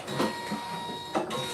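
Embroidery machine stitching a clutch in the hoop, a steady mechanical whir with rhythmic needle pulses and a couple of louder bursts, close and continuous with no talking.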